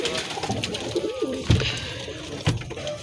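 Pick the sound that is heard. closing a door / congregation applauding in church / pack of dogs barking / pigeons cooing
pigeons cooing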